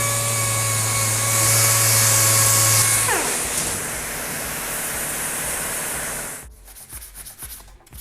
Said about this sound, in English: I will sand all the other parts, places here, and then I can prime it